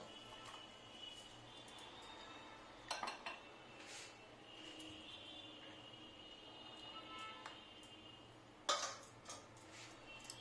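A spoon stirs jaggery and black salt into water, giving faint, soft swirling with a few sharp clinks against the vessel, heard close in a quiet kitchen.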